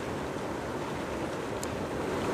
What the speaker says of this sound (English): Let's hear the motor.